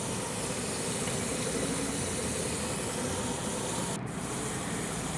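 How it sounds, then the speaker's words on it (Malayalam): Fish frying in a pan gives a steady, close, loud sizzling hiss that runs without break, apart from one brief dip near the end. "മീൻ വറുത്തത് ഇപ്പുറത്ത് ആയിക്കൊണ്ടിരിക്കുന്നുണ്ട്"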